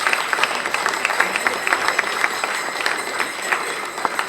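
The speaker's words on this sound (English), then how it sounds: "Give yourselves a round of applause." Seniors at a Rotary holiday luncheon give themselves a round of applause, a lively steady patter of many clapping hands with crisp individual claps popping out, fairly loud and sustained.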